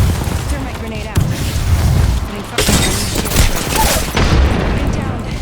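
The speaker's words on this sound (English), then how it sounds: "Thermite grenade out." Thermite grenade going off in a shooter video game, a loud burst of crackling booms and rapid fire-like bangs packed together, with voices talking over it.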